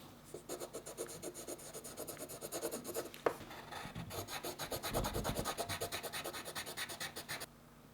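Colored pencils coloring on paper for a toy fashion design kit, steady rapid back-and-forth rasping strokes that continue for several seconds, close and soft, with no talk.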